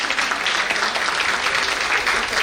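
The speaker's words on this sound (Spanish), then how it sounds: "quiero dar la bienvenida de nuevo con un aplauso" Audience applause welcoming panelists at a literary conference, a full, dense and fairly loud roar of many hands clapping that stays even and unbroken from start to finish, with no speech on top.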